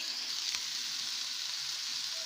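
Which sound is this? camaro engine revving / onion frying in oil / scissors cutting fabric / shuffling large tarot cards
onion frying in oil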